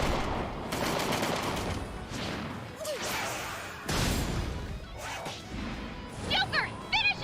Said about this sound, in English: Haru has a grenade launcher